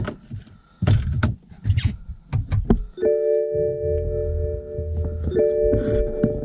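BMW 335i E90 switched on: a few sharp clicks and handling knocks, then steady electronic tones from the dashboard that hold and change pitch once as the instrument cluster comes alive.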